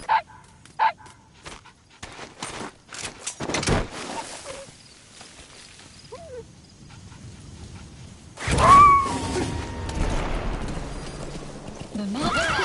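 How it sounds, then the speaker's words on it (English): Wild dog pup in a video game barking and whimpering in scattered short bursts, with loud horse neighs and clip-clopping hooves alongside, then a louder swelling stretch of game sound near the end. "That wild dog pup. He's a tough little guy."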